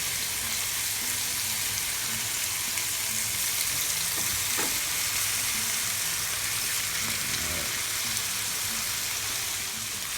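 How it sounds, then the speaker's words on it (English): Bacon fries in a pan with a dense, even sizzle and crackle that holds close and steady throughout, with faint clinks and no voices. "we're going to start cooking up our bacon here"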